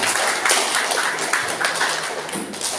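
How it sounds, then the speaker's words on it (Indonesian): An audience clapping in applause at a school student leadership training session, a steady dense wash of hands with a few louder claps, close and sustained throughout. "kita berikan tepuk tangan"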